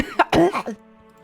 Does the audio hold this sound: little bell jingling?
no